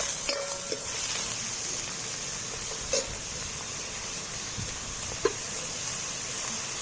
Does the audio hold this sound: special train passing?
no